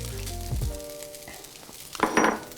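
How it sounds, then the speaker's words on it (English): Quinoa and chopped egg frying in a pan, giving a faint sizzle with soft stirring clatter and a brief louder burst of crackling near the end. "our quinoa has been frying for a minute"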